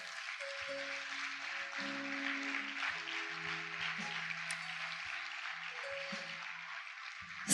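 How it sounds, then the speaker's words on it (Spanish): A church congregation claps in a dense, continuous wash of applause, with sustained keyboard or organ notes running underneath. "Dale un fuerte aplauso a Dios."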